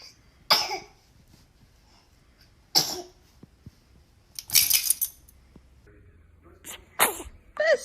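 A baby sneezes in short, sharp bursts, with several separate sneezes or coughs spaced across a few seconds against a quiet room.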